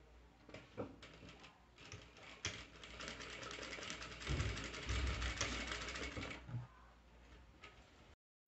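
A sewing machine stitching the seams of fabric, a close, continuous mechanical whir with a rapid needle patter that swells and then stops abruptly near the end.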